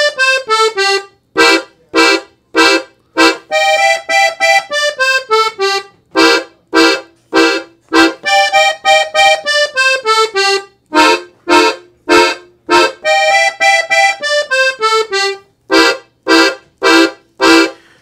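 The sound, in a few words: piano accordion playing a blues progression in C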